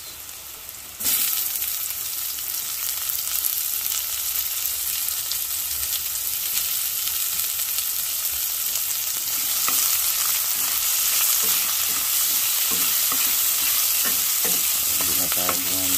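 Garlic and then onion dropped into rendered pork fat for igado, starting with a burst into a loud continuous sizzle, with scraping stirs growing more frequent toward the end, close and without speech.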